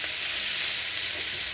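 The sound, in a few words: water added to sizzling potato curry in pan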